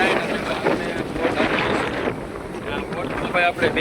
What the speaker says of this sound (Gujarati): આપણી બોટ ઉપડી ગઈ છે